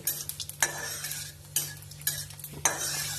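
Cumin seeds tempering in hot oil sizzle steadily while a utensil stirs and scrapes the pan in several sharp strokes, with a low hum underneath.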